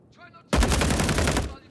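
A rapid burst of automatic gunfire in a space shooter video game, loud and close, lasting about a second after a brief voice.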